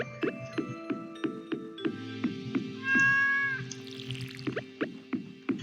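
A cat meows repeatedly in a steady run of short calls, close and clear, with one longer drawn-out yowl in the middle and no talking over it.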